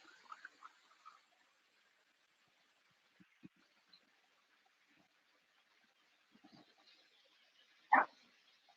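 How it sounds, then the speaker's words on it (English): A dog barks off in the distance several times, with faint scattered yips and a single louder bark near the end, against a quiet indoor room during a vinyasa yoga class. "That dog has been very aggressive today."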